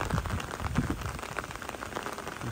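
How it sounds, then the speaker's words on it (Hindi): Steady light rain patters on surfaces outdoors at an off-road 4x4 outing, a continuous soft hiss with scattered drops and no talk. "बारिश इतनी ज़्यादा नहीं है लेकिन है भी, अभी भी आ रही है"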